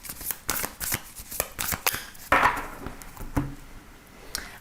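A tarot deck is shuffled during a French card reading, giving a run of quick riffling, slapping card sounds with short pauses, close and clear, followed by a couple of softer card placements.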